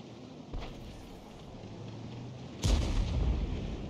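Hummel howitzer artillery in World of Tanks, with a faint muffled boom early on, then a loud, deep firing blast near the end that rolls on into a sustained low rumble.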